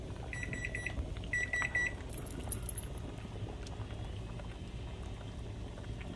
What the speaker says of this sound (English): I have them in the hot water bath